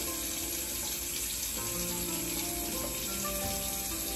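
Hot water runs steadily from a tap into a basin close by, a constant rushing hiss with no talking.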